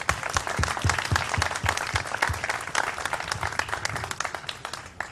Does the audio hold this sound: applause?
yes